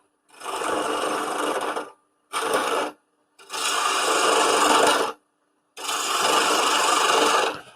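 Woodturning gouge cutting into the face grain of a wooden blank spinning on a lathe, heard as four loud, steady scraping-rasping passes separated by short pauses, no voices.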